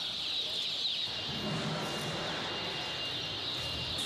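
Dense, continuous high-pitched cheeping from a large crowd of breeder chicks, steady and fairly faint, with no talking.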